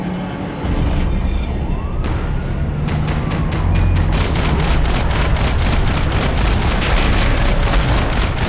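Rapid gunfire in a Max Payne 3 shootout, loud repeated shots in quick bursts over a dense, roaring background of action noise.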